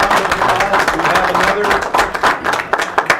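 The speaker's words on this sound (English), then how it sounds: "Let's give them a big round of applause." An audience at a school board meeting applauds honorees, a close, dense burst of steady clapping that carries on without a break and begins to thin toward the end.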